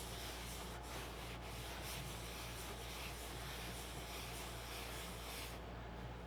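A cloth rubs a 3D printer bed clean with isopropyl alcohol, giving a continuous close scrubbing and rubbing sound with no talk.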